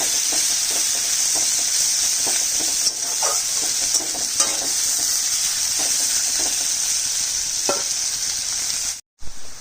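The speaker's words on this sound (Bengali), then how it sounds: "পেঁয়াজটা লাল করে ভাজবো।" Onion fries in a pan, making a strong, continuous close sizzle broken by scattered stirring scrapes, with a short cut just before the end and no speech.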